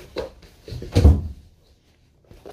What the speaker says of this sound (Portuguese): eu vou só fechar a porta ali